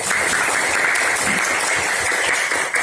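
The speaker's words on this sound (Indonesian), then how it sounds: "tepuk tangan untuk Rindu" Students in a classroom clap for a classmate, a short burst of brisk, dense clapping that stays loud and unbroken before cutting off.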